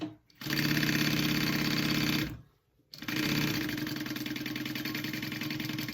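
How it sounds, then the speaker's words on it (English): Sewing machine stitching a quarter-inch seam on a tote bag, a fast steady mechanical whir in two bursts separated by a brief pause, close and loud with no talk. "And I'm sewing at a 1/4 inch seam allowance."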